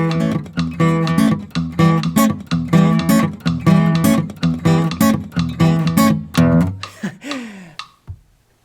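An electric guitar plays a riff at a fast 125 BPM, with steady driving picked notes in an even, bouncy rhythm, close and loud, ending in a slide and fading out.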